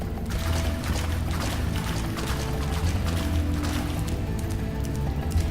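Spyro the dragon runs through swamp water in the game Spyro the Dragon, a continuous splashing and sloshing that stays steady and fairly loud throughout.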